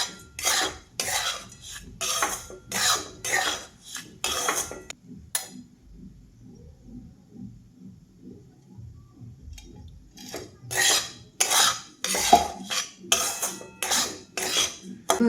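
Coarse bhagar and sabudana flour roasting in ghee in a kadhai, a spoon scraping and clinking against the pan in quick repeated strokes, with a quieter pause midway before the brisk stirring resumes.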